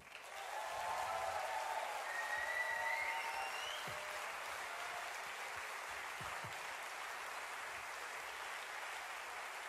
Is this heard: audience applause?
yes